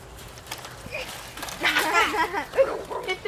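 Dog vocalizations close by with short yips and whimpers among children's excited voices and chatter.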